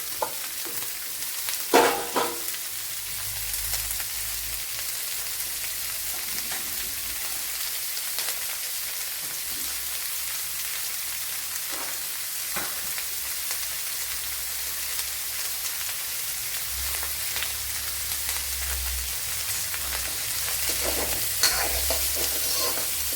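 Three chopped onions hit hot oil already holding browned garlic and ginger, sizzling steadily in a pan while a spoon stirs them now and then, a close, continuous frying hiss with occasional scraping clatters.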